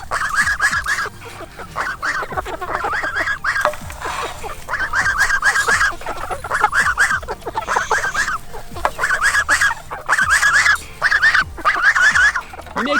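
Free-range chickens and geese outdoors in the morning, with repeated loud clucking and cackling calls in bursts, mixed with occasional honks, fairly close and continuous.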